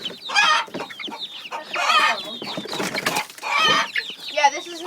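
Young 4-H chicks peep and cluck in close, lively bursts, with high chirping calls coming in several clusters and brief pauses between them.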